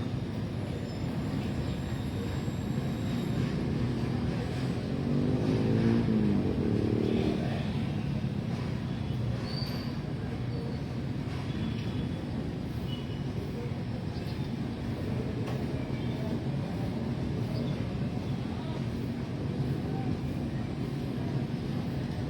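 An armed forces helicopter lands at Moriones Arena in the morning, a loud, steady engine and rotor roar filling the whole stretch without letup.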